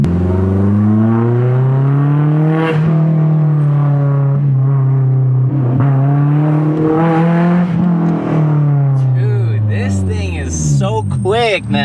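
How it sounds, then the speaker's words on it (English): Honda S2000 AP1 engine pulling hard from a standstill, a loud rising harmonic engine tone climbing steadily over about twelve seconds, with people talking and laughing over it throughout. "The torque from the AP1 to this car is so much better because this is uh, straight off the line, you'll punch through."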